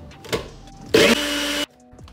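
Ninja Creami ice cream maker running, a short loud motor whir of under a second that settles into a steadier mechanical hum before cutting off, preceded by a brief clack.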